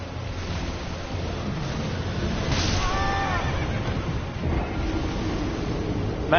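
In Elden Ring, a horse gives a clear whinnying neigh midway through, heard over a steady wind-like ambient background with no talking.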